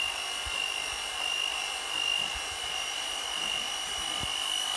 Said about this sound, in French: donc on va monter les blancs.